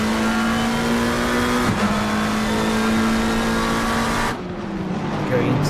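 Race cars, a Porsche among them, at Suzuka in a PC racing game, engines droning loud and steady with a gear change partway through and a shift in pitch near the end, under commentary.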